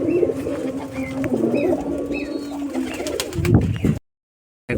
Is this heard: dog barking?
no